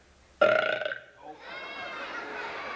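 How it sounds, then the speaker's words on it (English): A single loud, drawn-out burp from a child performer in a stage musical, sudden at onset and fading, followed by a sustained sung note. "Oh, how I love to burp."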